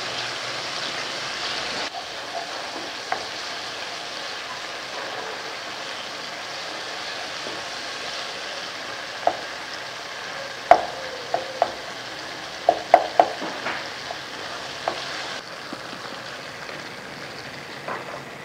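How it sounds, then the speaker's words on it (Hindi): Tomatoes being stirred in a hot pan for chilli potato gravy, a soft continuous sizzle with occasional scraping clicks of the spoon, steady and moderately close with no talking. "टमाटर को डाला है और टमाटर को उस वक्त तक हमने मिक्स करना है जब तक ये ग्रेवी ना बन जाए"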